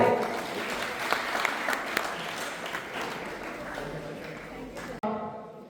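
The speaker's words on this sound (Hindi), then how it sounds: "बेटा तालियां बजाते रहो।" Children at an academy event clap together in a steady, moderately loud patter that slowly fades before a brief gap, then resumes as a shorter burst.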